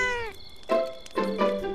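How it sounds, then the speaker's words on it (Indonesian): A cartoon cat gives three short, high, clear meows with pauses between them, alone and close. "Kucing?"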